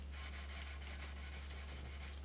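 Steady back-and-forth rubbing of 1000 grit abrasive over the tarnished frets of an Ibanez RB 920 bass guitar, close and continuous with a quick regular stroke rhythm, no talking.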